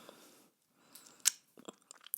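Chocolate is chewed close to the microphone in a quiet room, with soft wet mouth sounds and a few sharp crunchy bites toward the end.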